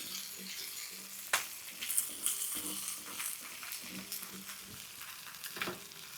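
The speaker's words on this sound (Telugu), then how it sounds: "ఇది మాత్రం మన చేప ముక్కలను అన్నిటినీ ఇరువైపులా బాగా వేయించుకోవాలి" Fish pieces fry in a pan for a Telugu-style fish fry, giving a steady crackling sizzle with occasional sharp spatters and the scrape of turning the pieces, close and continuous.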